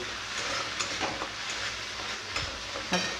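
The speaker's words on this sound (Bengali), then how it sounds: "সর্ষের তেলটা যে গরম হয়ে গেছে তো পেঁয়াজ বাটাগুলো দিয়ে দিয়েছি এরপর একটু কষিয়ে নিচ্ছি" Onion paste fries in hot mustard oil in a pan with a steady, loud sizzle, while the mixture is stirred now and then.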